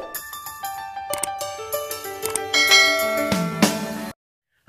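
A bright chime notification sequence of layered ringing bell tones, struck one after another in quick succession and building into a shimmering cluster before cutting off abruptly, with no talk.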